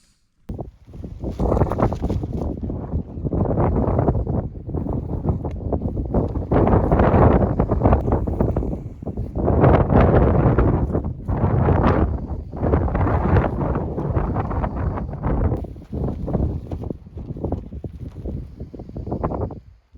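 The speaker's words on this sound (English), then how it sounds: "still a bit windy out" Gusty wind buffets a Lanshan 1 tent pitched at a test camp on Old Winchester Hill after rain, with loud, continuous rumbling surges that rise and fall over the whole stretch and no voices.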